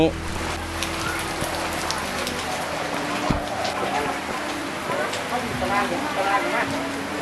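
Rain patters steadily beside a rock overhang at a cave temple in Sakon Nakhon, a dense hiss of drops continuing throughout, with someone talking over it.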